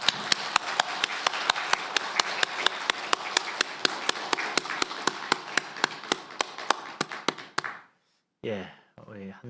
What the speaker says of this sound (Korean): 우리 또 힘찬 박수로 영광 돌리겠습니다.